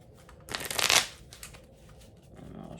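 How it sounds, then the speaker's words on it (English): A deck of Harry Potter trading cards shuffled by hand during a game, one quick close riffle burst of flicking cards followed by faint handling. "And I'll shuffle this bad boy up."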